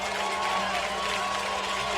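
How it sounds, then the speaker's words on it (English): The Marshall Mavericks home crowd cheers at a high school football game against the Longview Lobos, a steady distant roar of many voices filling the stadium. "Here awakens the Maverick crowd."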